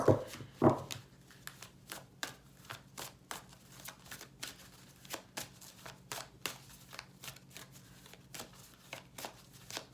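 A deck of cards is shuffled for a reading in a series of quick riffling bursts and soft taps, close and fairly quiet, with a couple of louder knocks at the start.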